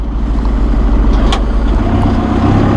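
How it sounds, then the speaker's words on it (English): A 2011 John Deere 5101E utility tractor engine rumbles low and steady up close as the gearbox is shifted into third gear, a continuous heavy diesel drone with no talk. "Whoop, there's third gear."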